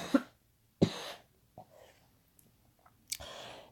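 A sick man gives several sharp, close coughs with pauses between them, followed by quieter throat sounds and one more cough near the end.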